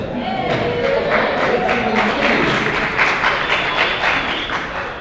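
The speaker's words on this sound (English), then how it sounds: "I would expect clapping after everything I say" A conference panel audience at SXSW claps in a dense, steady burst that holds for several seconds before tapering slightly, with a faint murmur of voices beneath.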